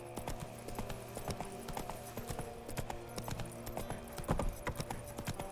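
Roach the horse gallops in The Witcher 3 game with a quick, steady run of hoof clip-clops, close and fairly quiet, with no talk over it.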